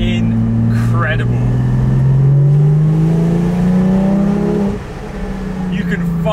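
A Porsche 718 GT4 with a 4-litre flat-six and titanium exhaust revs up through a gear in a rising, close engine drone, drops off on a shift, then pulls again from inside the car.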